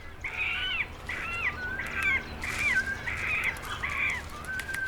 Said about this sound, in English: The young beg for food by nudging the adult bird's beak.